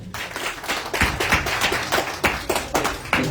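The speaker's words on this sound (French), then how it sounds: "c'est très bien applaudissez pour elle" A crowd claps steadily for a few seconds, a dense burst of applause with rhythmic peaks.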